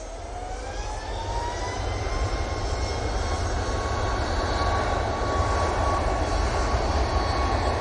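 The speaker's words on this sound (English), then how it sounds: "Ryanair 737 MAX 8 off to Malta" A Ryanair Boeing 737 MAX 8 departing Manchester Airport for Malta, a loud broadband jet roar with a faint rising whine, growing steadily stronger over about eight seconds, no talk.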